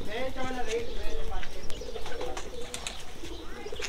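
Pigeons coo close by in a Pakistani breeder's loft, soft repeated throaty calls blending with chirps and background noise.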